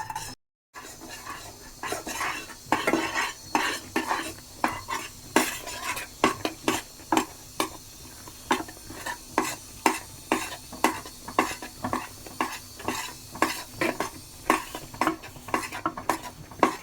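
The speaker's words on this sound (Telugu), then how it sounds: "ఇప్పుడు కాస్త పిండి కలుపుకుంటూ మెల్లిగా కలుపుకుంటూ ఉంటే ఉంటగట్టకుండా ఉంటుంది." Horse gram flour is stirred into hot jaggery syrup in a pan for laddu: a spoon scrapes and knocks against the metal in quick repeated strokes over a soft sizzle, close and steady, with no talking.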